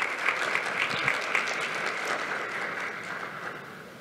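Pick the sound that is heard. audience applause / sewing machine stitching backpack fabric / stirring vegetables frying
audience applause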